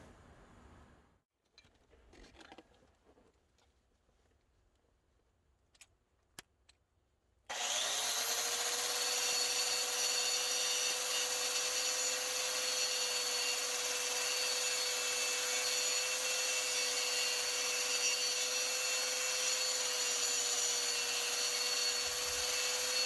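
A DeWalt power tool shapes antler tools: after a few quiet scrapes and knocks, the tool suddenly starts and runs with a steady, loud, high-pitched whine until the end.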